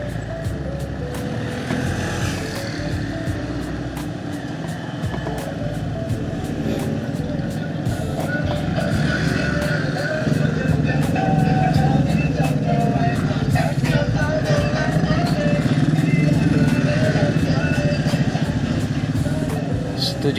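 Congested road traffic on a motorcycle tour route toward Langkat, a continuous drone of idling and creeping engines that grows slightly louder midway, with a rider's voice murmuring now and then over the rumble.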